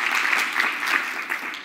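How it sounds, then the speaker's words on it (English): An audience claps at a public talk on brain health. Steady, dense applause fills the whole moment at an even level, with no clear voices over it. "round of applause"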